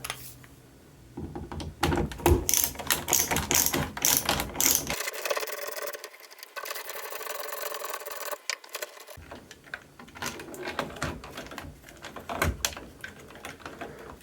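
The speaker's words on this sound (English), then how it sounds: "Next I'm going to switch to my Phillips screwdriver." Phillips screwdriver working screws on a bathroom fan timer switch: close, rapid ratcheting clicks and mechanical rattles coming in dense bursts, with a brief quieter stretch midway.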